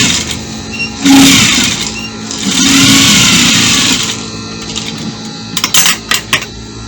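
A sewing machine top stitches a pencil dress in two steady whirring runs of about one and a half seconds each, followed by a few sharp clicks and taps.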